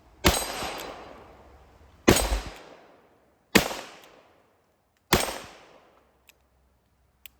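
A Smith and Wesson Model 66 revolver fires outdoors: four sharp, loud gunshots spaced about one and a half seconds apart, each ringing into a decaying echo, followed by faint clicks.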